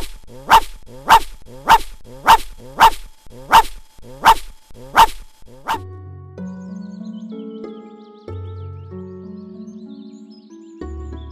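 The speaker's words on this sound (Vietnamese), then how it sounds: "chỉ tại tôi không quản tốt con chó" A dog in an animated Buddhist film barks eight times in a loud, evenly spaced series, then falls silent as low musical tones take over.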